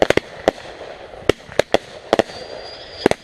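Backyard firework fountains going off, heard as a series of sharp crackling pops spread irregularly across several seconds over quiet outdoor ambience, with a faint high whistle near the end.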